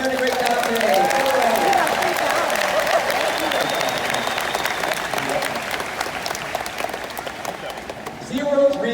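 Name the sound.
audience applause for volunteers at SeaWorld show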